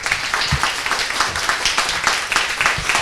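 An audience applauds a speaker at a tech careers talk in a dense, steady round of clapping from many hands, with no voices over it.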